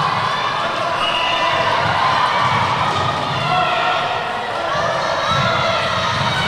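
At an under-17 netball match between Gibraltar and Northern Ireland, a crowd keeps up a loud, steady wash of cheering and shouting, with a commentator talking over it.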